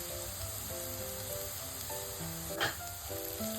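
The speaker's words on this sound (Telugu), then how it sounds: "కొబ్బరి కూడా కొంచెం ఆయిల్లో ఫ్రై అవ్వాలి, ఒక 1 మినిట్." Okra (bendakaya) with a teaspoon of coconut powder frying in oil, a steady close sizzle with a brief stir or scrape near the middle and no talking.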